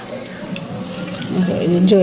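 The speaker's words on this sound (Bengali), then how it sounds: "দেখো তোমরা আমাদের কাটলেট বা আলু চপ ভাজা হচ্ছে অনেক সুন্দর করে" Potato chop cutlets frying in oil in a tiny mini kitchen produce a steady, soft sizzle with light clinks of utensils, growing slightly louder toward the end.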